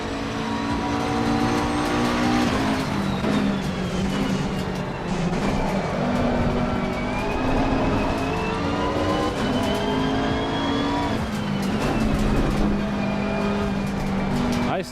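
Race car from the Gran Turismo 7 racing game driving continuously, engine tone rising and falling through gear changes under loud, steady in-game car noise with no talk over it.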